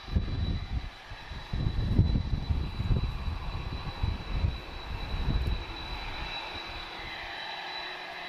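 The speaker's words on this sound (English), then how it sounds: "This is an A320." Air France Airbus A320 airliner at Lisbon Airport, its engines giving a steady, broad rumbling roar with a faint high whine that swells and eases over several seconds, heard from a moderate distance.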